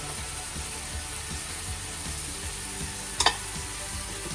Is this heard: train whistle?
no